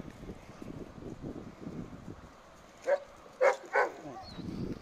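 A dog at an animal shelter gives three short, sharp barks in quick succession, close by, after a stretch of low murmuring voices and wind noise against the microphone.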